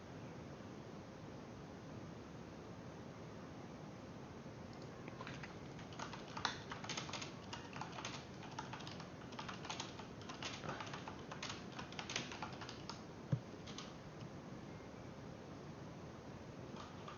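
Typing on a computer keyboard during a stock-trading livestream, a quiet run of rapid uneven key clicks over steady background hiss, near but faint, with no talk.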